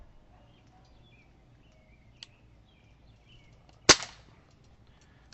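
A single sharp crack from a Commander NV500 gun fired at a target stands out against quiet background, preceded by a much fainter click.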